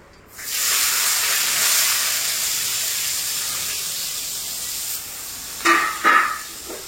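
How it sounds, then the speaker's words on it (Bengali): Three large onions tipped into hot oil in a Bengali kitchen for a pointed gourd and prawn curry, giving a sudden loud hiss that holds steady, then a few sharp stirring clatters near the end. "পেঁয়াজটাকে আগে ভালো করে ভাজতে হবে।"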